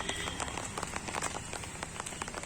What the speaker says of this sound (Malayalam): ഇപ്പൊ മഴയുണ്ട്